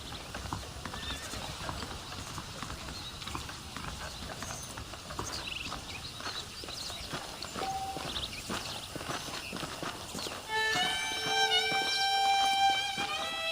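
Horse hooves clip-clop steadily on a dirt path in the Red Dead Redemption western game, a continuous rhythmic walking pace with a brief whinny, joined near the end by a swell of tonal background music.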